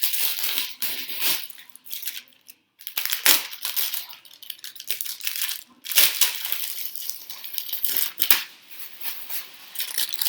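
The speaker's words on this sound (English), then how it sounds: "so cut this plastic" Plastic wrapping on an SG Scorer Classic cricket bat being cut and handled, giving bursts of close crinkling and snipping with short pauses between them.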